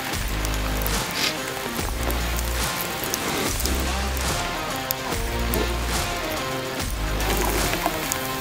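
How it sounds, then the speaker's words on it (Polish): Water drips from trees after rain onto a campsite, a dense patter of drops under a recurring heavy low throb, with no voices. "Nie pada. Nie, tylko z drzew już kapie"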